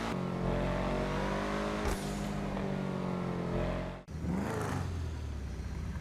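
A car engine in the video game GTA Online, revving loudly with a harmonic whine that rises and shifts, an abrupt cutout near the end, then the engine pulling again, no voices.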